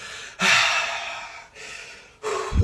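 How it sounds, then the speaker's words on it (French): Calm, slow breathing is demonstrated up close, with long soft airy exhalations and inhalations separated by short pauses. "Quand tu respires comme ça sans problème, de toute façon c'est doux."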